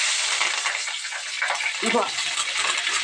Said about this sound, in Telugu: ఇప్పుడైతే నేను పచ్చిమిర్చి ఉల్లిపాయ ముక్కలు అయితే వేస్తున్నాను